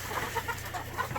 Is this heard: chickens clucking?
yes